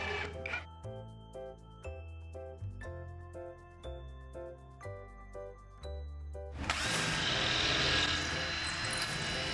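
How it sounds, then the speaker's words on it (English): A power drill bores pilot holes into wooden shelf supports, several short whirring bursts with rising and falling pitch and pauses between them, followed by a louder, harsher sustained drilling sound at the end. "I am going to pre-drill some pilot holes before installing the screws"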